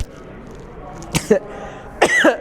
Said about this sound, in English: I'm gonna get the cough in there